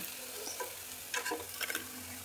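Crispy baby corn frying in a pan and being stirred, an up-close crackling sizzle with a few sharp scraping stirs and crisp rattles near the middle and end, no voices.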